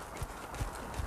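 A horse trotting in a training session, three soft hoof thuds at an even beat, faint and somewhat distant.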